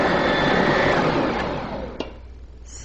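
An electric mixer whirs steadily as it creams soft butter for Greek shortbread cookies, its motor drone running loud and constant before fading and easing down near the end, followed by a brief clack.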